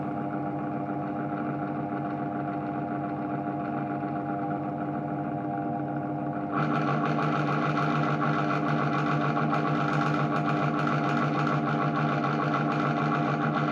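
A Vitamix Pro 750 blender runs on low speed 1, a steady, fairly quiet motor hum with stable harmonics that steps up slightly in level partway through, alone with no talking.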